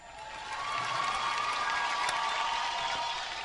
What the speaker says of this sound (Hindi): जोरदार तालियां फॉर स्टार गिल्ड अवार्ड